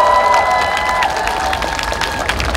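A concert audience at an outdoor prenatal music concert on Nodeul Island applauds with steady, dense clapping and some cheering, loud and continuous, with faint sustained tones lingering beneath.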